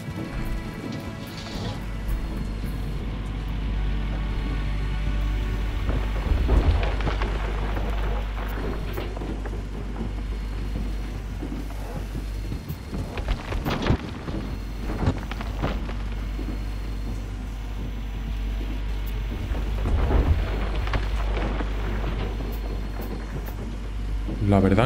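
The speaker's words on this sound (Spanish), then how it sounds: "todavía sigue lloviendo, ¿eh?" Steady rainfall with occasional rumbles of thunder fills a gold-mining game scene, a constant wash of rain with low booming swells rising and fading throughout.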